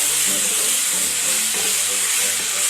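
Beef sizzling and frying in a pan of sautéed masala for a Kerala-style ularthiyathu, a steady close hiss with faint stirring throughout.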